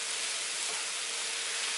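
Cabbage, onions and tomato sautéing in a pan, a soft steady sizzling hiss, faint and even throughout with no talk.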